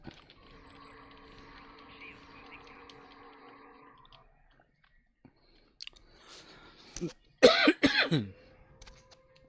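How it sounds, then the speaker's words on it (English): A person coughs a few times up close, a sharp burst of rough, raspy hacks after several seconds of quiet tonal game background, with no talking. "I got a little bit of a cough."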